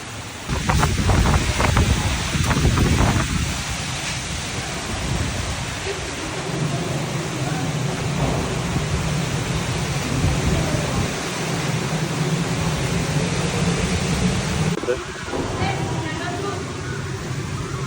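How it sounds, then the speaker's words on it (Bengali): A Kalbaishakhi storm lashes Chittagong at midday, with loud continuous roaring wind buffeting the microphone and heavy rain pouring steadily, a gust surging harder at the start and a voice briefly audible. "দেখেন ঝড়ের গতি এতই বেশি যে এখানে দাঁড়ানো পর্যন্ত যাচ্ছে না।"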